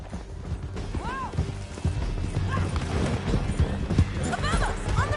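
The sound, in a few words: horse galloping, from Red Dead Redemption 2 video game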